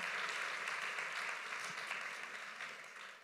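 An audience applauds the artist Brigitte Privat at a prize ceremony. The clapping is steady and dense and fills the room, then slowly fades toward the end.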